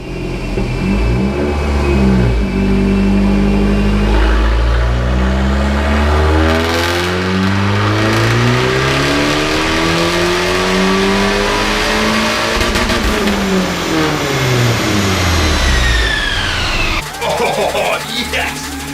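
A modified Fiat 500 Abarth 595 with a big turbo upgrade revs hard on a dyno, its loud, close engine note sweeping up and down through several long pulls before cutting off abruptly near the end.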